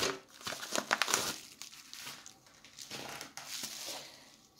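A plastic packet holding gel nail polishes is crinkled and handled up close while being opened during a parcel unpacking, in quiet irregular bursts of crackling.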